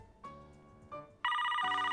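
A telephone rings in repeated electronic bursts, two shorter chirps followed by a louder sustained ring, with no talking over it.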